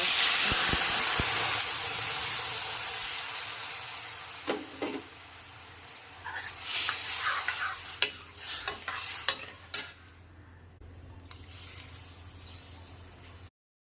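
Garlic sizzles loudly in hot oil for a chakvat leafy-vegetable dish while a spoon scrapes and stirs the pan, the hiss gradually fading as the stirring clatters.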